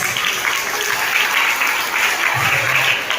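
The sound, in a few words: applause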